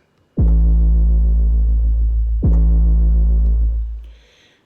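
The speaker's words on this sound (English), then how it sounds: "I used this 808 mutation bass from the same Alchemy library" Two deep, booming 808 mutation bass notes from GarageBand's Alchemy library on iPad, each with a sharp pitch-drop attack and long sustained tail, the second fading out.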